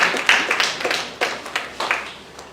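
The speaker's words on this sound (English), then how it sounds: "You're supposed to clap at this junction." A few people clapping in a church conference audience, sparse and uneven claps with gaps between them, fairly close and fading out within a couple of seconds, with no talking.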